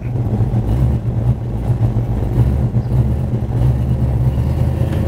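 A 1969 Plymouth Road Runner engine drones steadily and loudly from inside the car while driving, a deep continuous rumble that rises and falls slightly as it pulls through the gears.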